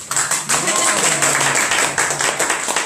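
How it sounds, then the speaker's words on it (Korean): An audience claps steadily through a lecture hall after a choir song, the clapping dense and continuous with slight rhythmic pulses. "박수 한번 치고"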